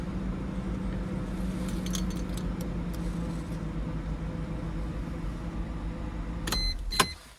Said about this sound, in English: I put the window down just slightly because the soft top is still misbehaving.